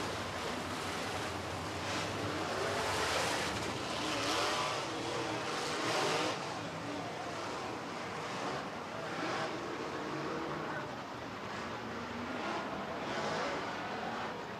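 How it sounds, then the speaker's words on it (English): A field of 24 super stock cars roars past at the start of a memorial feature race, a dense, continuous engine drone with surging swells, heard from a distance mixed with wind-like rush. "24 cars starting your Al Delane Memorial Race"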